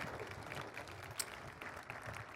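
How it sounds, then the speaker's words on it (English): Audience applause fills a high school commencement ceremony, a faint, steady wash of many hands clapping at a distance, with no one speaking over it. "It definitely deserves a round of applause"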